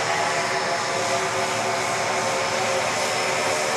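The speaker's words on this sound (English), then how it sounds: "This big Saab is coming up behind us again." A large Saab turboprop airliner taxies close by at Dallas Love Field, its propeller engines giving a steady, loud broadband roar that holds unchanged throughout with no voices.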